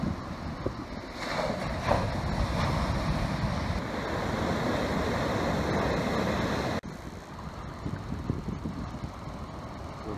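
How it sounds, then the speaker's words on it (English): Ocean swell rolls through the Fatu Hiva anchorage near Omoa, a broad continuous wash of waves and wind buffeting around a sailboat, loud and steady with a sudden drop partway through. "The swell runs pretty high, it doesn't seem like there's much protection"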